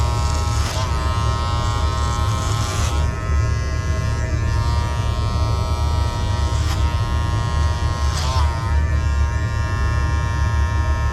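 Electric hair clippers buzz steadily and loudly close up during a taper haircut, a continuous droning hum with brief pitch shifts as the blade meets hair.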